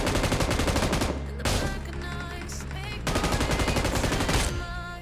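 Gunfire in the BGMI mobile game's Naruto mode, played on a low-end Android phone. Three loud bursts of rapid automatic fire come close together, with brief gaps between them and no talking.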